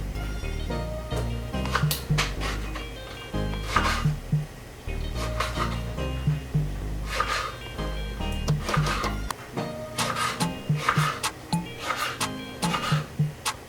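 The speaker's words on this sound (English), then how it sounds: "now I will cut these breadfruit in small dice-sized pieces" Repeated knife chops dicing breadfruit on a cutting board, irregular taps in short bursts, close by, with little else in the background.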